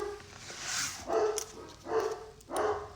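Dogs bark in a series of three or four sharp barks, spaced about a second apart and fairly close.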